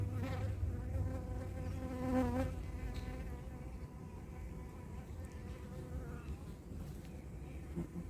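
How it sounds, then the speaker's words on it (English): Honey bees buzz steadily inside an open hive during a honey harvest, a dense continuous drone close by with no talk over it. "bees are doing their bee thing."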